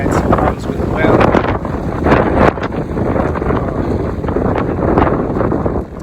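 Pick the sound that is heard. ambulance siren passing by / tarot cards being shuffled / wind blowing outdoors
wind blowing outdoors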